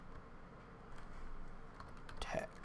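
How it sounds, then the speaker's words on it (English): A run of soft computer-keyboard keystrokes taps along steadily, close and fairly quiet, with a faint voice briefly present. "So type out the word you want to use"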